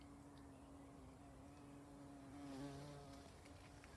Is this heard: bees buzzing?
yes